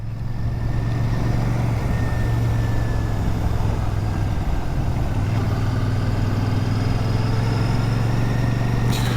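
A Royal Enfield Shotgun 650 motorcycle engine gives a steady, deep rumble between dry stone walls, holding an even, close drone throughout with no voices.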